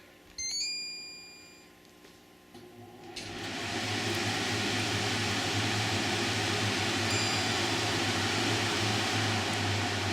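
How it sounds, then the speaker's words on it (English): A beep sounds at switch-on, then an LG 7,000 BTU portable air conditioner's fan spins up to a steady, close whooshing hum that holds evenly for several seconds without speech. "So the fan starts at high, then I turn it back down to low"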